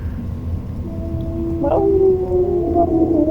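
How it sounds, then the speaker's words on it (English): A dog's drawn-out howl rises and wavers alongside a steady wailing siren, both sustained and fairly close, over a low background rumble. "There's a siren. He yells at sirens."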